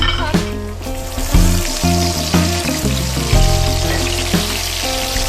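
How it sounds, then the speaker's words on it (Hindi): Chicken pieces fry for chicken karahi in a hot pan, a loud, close sizzle with crackles and bursts of spattering oil, no voices. "अब हमने इसके अंदर चिकन को ऐड करना है। चिकन को हल्का सा हम फ्राई करेंगे।"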